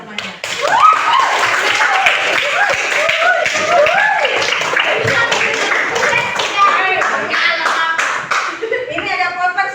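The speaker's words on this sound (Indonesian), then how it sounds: "kasih tepuk tangan namanya" Children in a classroom clap their hands in a lively burst of applause that runs steadily for several seconds, close and loud, with voices mixed in.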